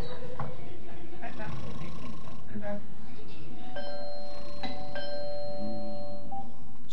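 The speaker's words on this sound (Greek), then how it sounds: "Το κουδούνι δεν ακούς?" A doorbell rings late at night during a Greek stage play, a sustained electronic chime tone holding steadily for a couple of seconds amid theatre room noise and movement.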